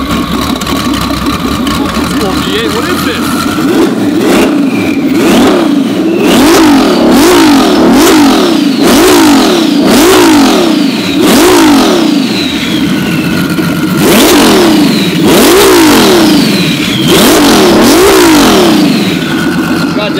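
A twin-turbo Ferrari F12 is revved hard toward 8,000 RPM in repeated loud blips, each climbing sharply and falling back to a throbbing idle, close and dominant, with a brief spoken question near the start.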